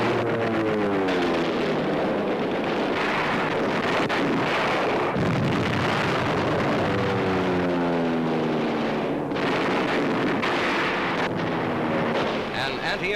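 Bombs burst during low-level Navy fighter and bomber attacks on Japanese shipping in Mindanao Harbor, a heavy continuous roar of explosions and droning aircraft with wind-like distortion, one sharp blast near the middle.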